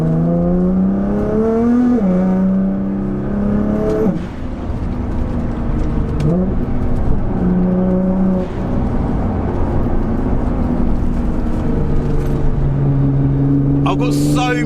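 A modified 660 bhp Nissan GT-R driving on a public road, its engine note rising and falling through several gear changes, with a loud whirring drone throughout and a voice speaking over it.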